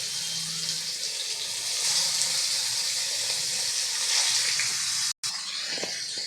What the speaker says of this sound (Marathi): तेल आपलं गरम झालं, यामध्ये मच्छी आपली सोडून घ्यायची.